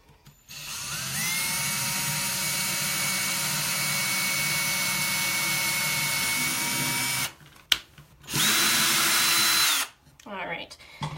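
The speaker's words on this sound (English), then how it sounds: "drill your hole" A cordless drill boring a hole through a wooden serving tray whines loudly and steadily for several seconds, cuts out briefly, then runs again in a second burst before stopping.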